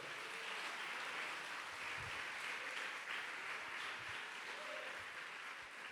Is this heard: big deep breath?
no